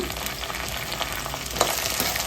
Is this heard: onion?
yes